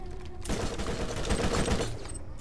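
Shotgun fire in the video game Borderlands: a dense, continuous rattle of loud gunfire and impacts lasting about two seconds, close and busy.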